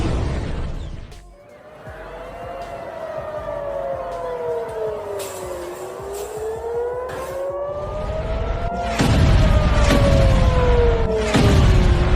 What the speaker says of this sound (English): Sirens echo across major cities.